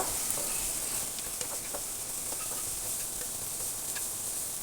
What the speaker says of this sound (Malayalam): ഇനി നമ്മൾ എടുത്ത് വെച്ചിരിക്കുന്ന മുട്ട ചേർത്ത് കൊടുക്കുക. അതിലേക്ക് നന്നായി ഇളക്കുക.